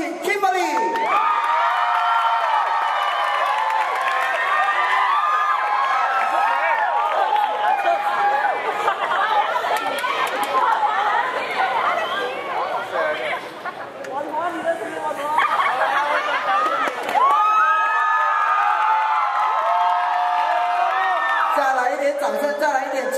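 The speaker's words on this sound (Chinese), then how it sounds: "掌声加尖叫有请 Kimberly" A packed crowd at a university singing competition in Linkou cheers, whoops and claps continuously as a guest singer is welcomed. The screaming and applause swell and dip over many seconds, with voices and chatter mixed in.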